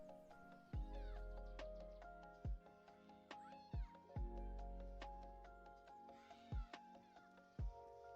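A cat meows repeatedly indoors, long drawn-out cries separated by short pauses, close and fairly clear over a quiet background.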